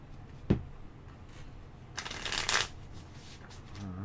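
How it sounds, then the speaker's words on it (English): Cards for The Witcher: Old World board game are shuffled, a single sharp tap followed by a brief rapid riffling burst, close and moderately loud, then soft handling noises. "So now we're going to take these and we're going to shuffle these in with these."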